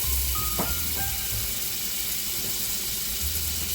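Butter sizzling in olive oil in a pan on the stove, ahead of sautéing mushrooms, gives a steady, close, even hiss that runs unbroken throughout with no talking.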